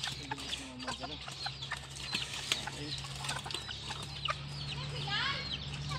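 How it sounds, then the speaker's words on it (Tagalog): Chickens cluck softly and intermittently over a low steady hum, with a few sharper squawks and chirps scattered throughout. "Mga manok naman ito ah!"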